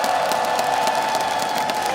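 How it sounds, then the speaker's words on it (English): Arena crowd cheering at the ESL One Bangkok Dota event, a steady roar of many voices with scattered whoops, dense and continuous throughout. "we just get a nice ESL One Bangkok cheer to see if we can get 5 games"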